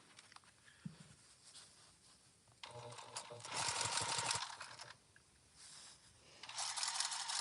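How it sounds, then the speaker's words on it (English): A sewing machine stitches a bag in bursts, pausing and starting again as the needle is left down to pivot at the corners, a close mechanical whir with quiet gaps between runs. "So I am going to leave my needle down, pivot, and we're going to sew all 4 sides"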